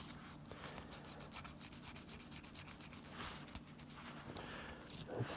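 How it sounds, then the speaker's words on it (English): Sandpaper rubbing electrical terminals clean on a Honda S2000 interior dome light, a faint, close scratchy rasp in quick back-and-forth strokes. "you grab some sandpaper and you just start scraping the terminals till they're clean"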